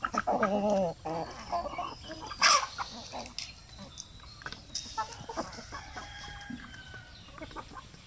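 Free-range chickens cluck and squawk in their outdoor range area, with a loud burst of calls at the start and a sharp squawk a few seconds in, then softer scattered clucking carrying on through the rest.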